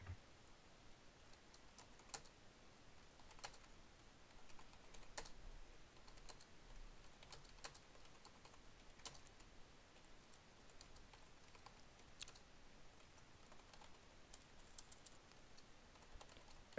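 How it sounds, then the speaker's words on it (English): Quiet, steady tapping of keys on a computer keyboard during a video game session, irregular clicks continuing throughout with no talking. "I'm typing."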